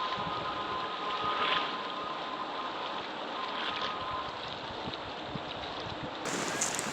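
Strong wind buffeting the microphone at Kotri Barrage in Hyderabad, Sindh, a steady loud roaring rush throughout with gusty swells.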